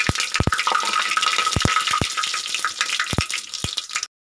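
Cumin seeds and dry red chillies hit hot oil with popping mustard seeds in a pan for dal khichdi tempering, with a steady loud sizzle broken by sharp crackles and spoon scrapes.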